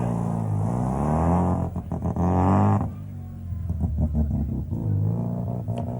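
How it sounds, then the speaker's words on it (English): A Holden Gemini fitted with a nitrous-equipped 13B rotary engine revs loudly with a rising, buzzing howl, then drops to choppy, uneven blips of throttle at a car show. "Vincent Westfold now in the Holden Gemini with the 13B rotary installed in it."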